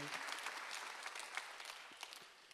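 A congregation at a Korean Sunday church service bursts into applause, dense rapid clapping that rolls on steadily and thins toward the end, with a faint voice in the background.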